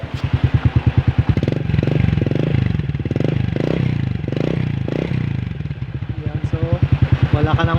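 A repaired motorcycle engine that no longer smokes idles loud and close with a steady rapid putter, then revs up and down in a series of surges before settling back to idle.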